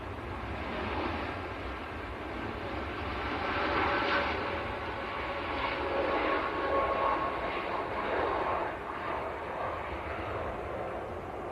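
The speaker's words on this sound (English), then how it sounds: "Tui to Rhodes, 787-8." A TUI Boeing 787-8 jet departing Manchester Airport for Rhodes, a faint broad distant engine roar that swells and fades gently, heard alone with no voices.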